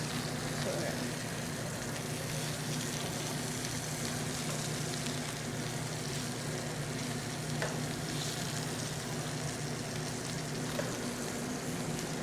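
Lamb sizzling and frying in a pan on the stove as it cooks toward medium rare, a steady, fairly faint crackle holding constant throughout.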